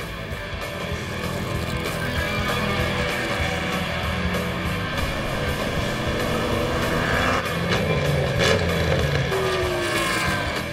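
A Jaguar 5.3-litre V12 race car with four Stromberg carburetors and 450 horsepower at Road Atlanta, a loud continuous engine roar that holds steady and swells slightly as it passes, with no voices.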